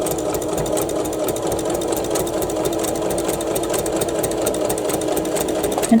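A sewing machine runs continuously, stitching a Cathedral Window quilt block with a fast, even mechanical whir and rapid needle chatter, close up and steady throughout, no talk.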